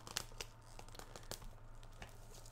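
A fingernail tears open the packaging of a limited-edition Kingdom Hearts 2.8 game during an unboxing. Quiet crinkling and several short ripping bursts sound close by, with no talking.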